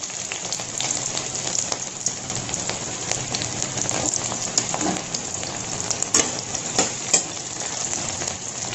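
Onion frying in oil with cumin seeds and bay leaf, a steady close crackling sizzle with dense popping spits throughout, no voices.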